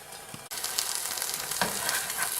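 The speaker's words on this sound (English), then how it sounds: "let it cook over medium heat for another minute or 2" Ham warming in a lidded pan over medium heat, a steady soft sizzle with faint crackles, a brief muffled knock at the start, close and even throughout.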